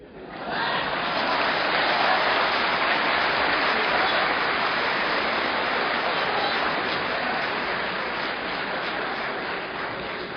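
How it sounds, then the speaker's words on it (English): A crowd claps at a talk on the Gospel of John, the applause swelling in within the first second into a thick, even roar of many hands that carries on loudly to the end. "Because of your clapping, he's going to get angry."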